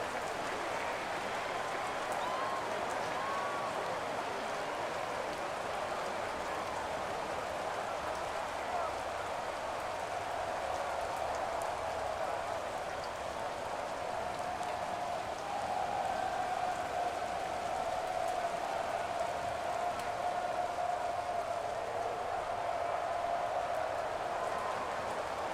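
Steady rain hiss in a Madden NFL football game, a continuous wet wash running through the whole stretch with a soft broadband texture and faint crowd-like murmur beneath.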